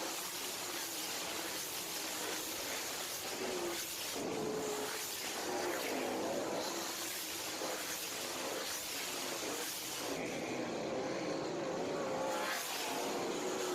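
USCS sprint race cars roar around a race track in a continuous, dense engine drone that swells slightly as the pack passes, heard from some distance.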